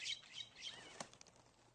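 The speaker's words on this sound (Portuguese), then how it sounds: "as gralhas vão para o chão" Nutcrackers flying down to the ground, a brief, soft flutter of flapping wings with a few faint chirps, quiet and close.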